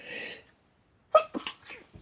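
A single sharp human sneeze bursts out close to the mic after a breathy intake, followed by a few quieter breathy sounds in an otherwise quiet indoor room.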